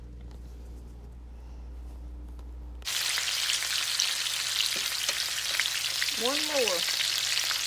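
After a quiet hum, food drops into hot oil in a pan on the stovetop and a loud, steady sizzle starts and keeps going, with a brief spoken remark partway through.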